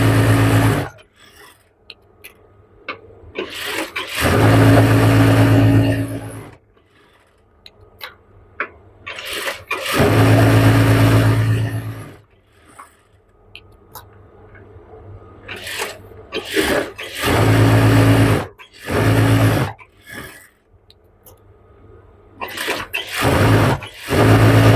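A sewing machine stitches a salwar in several loud, sustained runs of motor whir with short pauses between them, alone with no voices.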